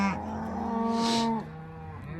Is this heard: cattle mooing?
yes